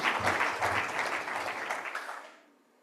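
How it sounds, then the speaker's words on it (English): Audience applause for the sponsors at a CPA economic forum closing session in Uganda, with a short burst of steady clapping that fades away. "Let us give them another very big round of applause."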